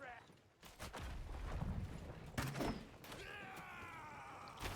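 Artillery barrages in a strategy game match, booming impacts and rumbling explosions rolling through a noisy battle, with commentators talking over it.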